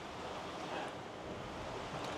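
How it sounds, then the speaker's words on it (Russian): Open-sea ocean waves heard from a sailing boat in the Caribbean near Puerto Rico; a steady, dense rush of surf and wind noise, close and constant, with no speech. "Смотрю я на эти волны и думаю, как же мне перейти-то на Гренаду с Пуэрто-Рико-то."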